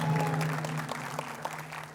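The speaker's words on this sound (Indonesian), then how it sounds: "Tepuk tangan untuk Ibu Nur Hayati Assegaf." A crowd claps steadily at a 2009 women legislative candidates' debate in Indonesia, a moderate burst of applause with some murmuring voices underneath.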